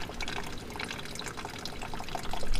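Coolant water draining from an El Camino engine into a bucket, a steady close splashing and trickling with scattered drips, running continuously and growing slightly louder toward the end.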